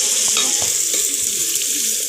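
Mustard seeds, onion, curry leaves, eggplant and potato fry in hot oil, a loud continuous sizzle close up with faint stirring clicks underneath.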